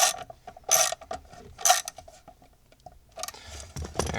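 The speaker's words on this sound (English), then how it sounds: "Now get a wrench and tighten this up." Wrench ratcheting as a bolt is tightened on Ford Ranger ECU wiring, several quick bursts of clicking with pauses between them, close and fairly loud.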